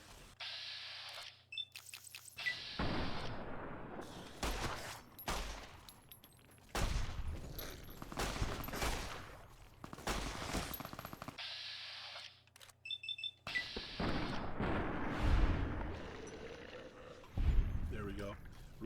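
Pistol fire from the Maria handgun in Fallout New Vegas, several loud sharp shots separated by brief quiet gaps, with game ambience and combat noise between them.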